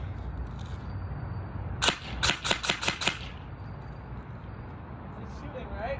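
A BB gun firing a quick burst of five or six sharp, close snaps in about a second, set against steady background hiss.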